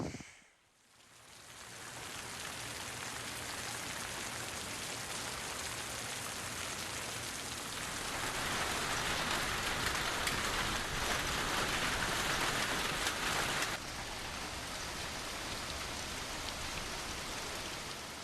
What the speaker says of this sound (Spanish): Se desató una tormenta y empezó a llover.